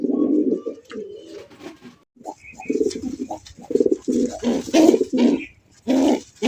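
A male Rajshahi high-flying Giribaz pigeon cooing up close, a series of loud throaty coos in rhythmic bursts separated by brief pauses, with faint bright chirps in between.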